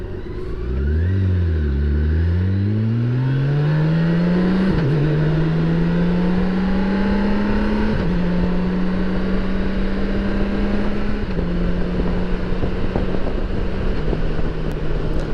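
A car engine drones steadily and loudly from inside the vehicle on a Halloween drive, revving up through several gear shifts before settling into a constant cruising hum with wind noise.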